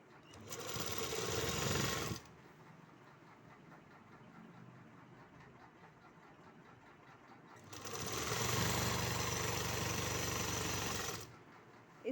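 A sewing machine runs in two bursts, stitching lining into a salwar, with a steady fast mechanical whir close by that stops for several seconds between runs, leaving a quiet room hum and no speech.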